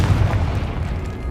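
A Confringo spell explodes in the video game Hogwarts Legacy, producing a loud, deep booming rumble that fills the whole short moment and tails off slowly.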